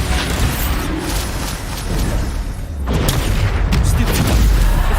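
A Bombarda spell explodes in Hogwarts Legacy amid busy magical combat: repeated deep booms and crackling bursts build in loudness over several seconds, with a voice talking through the action.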